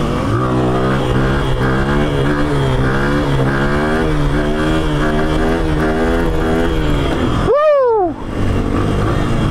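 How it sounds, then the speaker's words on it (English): A motocross bike engine revs hard and loud during a road wheelie, its pitch rising and falling in a wavering drone, then dropping sharply to a brief pause before a fast, rising surge of revs. "Now we're gonna wheelie with him."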